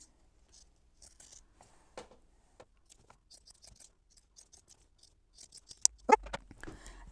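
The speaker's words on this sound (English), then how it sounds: "I'm going to take regular scissors, clip my corners real close" Regular scissors snip close around fabric corners, a scattering of small sharp clicks and cuts, quiet and near, with a louder cluster of snips near the end.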